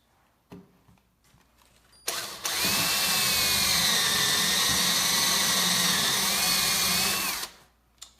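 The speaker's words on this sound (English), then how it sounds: "right now I'm pre-drilling the hole to connect this to the wall, to attach it to the wall" A power drill fitted with a Forstner bit bores a countersunk pilot hole in wood for wall mounting; after a few faint clicks the motor whines up and runs steadily for about five seconds, then spins down.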